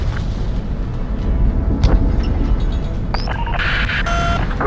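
Bomb strikes land on an electrical substation in the combat flight game Ace Combat 7, giving a continuous low rumbling roar with a sharp boom near the two-second mark, then electronic beeps and tones toward the end.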